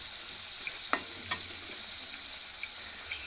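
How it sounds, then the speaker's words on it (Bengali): Samosas fry in hot oil with a steady, bright sizzle, close by, broken by a couple of brief clinks or stirs, with no talking. "এই দেখো এরকম লাল লাল করে ভেজে নেব"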